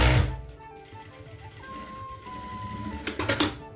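A sewing machine stitches along the edge of a kurti collar, a soft steady mechanical whir ending in a quick burst of rattling clicks.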